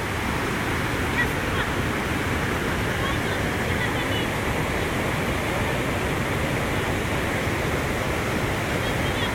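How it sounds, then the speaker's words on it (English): Yaremcha waterfall in the Carpathians rushing loudly, a constant broad roar of falling water with no breaks, close and dominant. "There is the famous Yaremcha"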